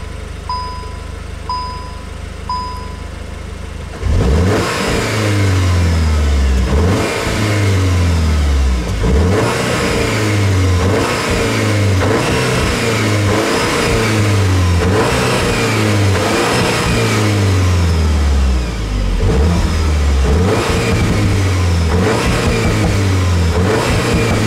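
A 2020 Cupra Formentor 2.0 TSI 310 4Drive DSG in Cupra mode idles briefly after a few soft chimes, then revs repeatedly in strong rising and falling surges, loud and close, with no voices.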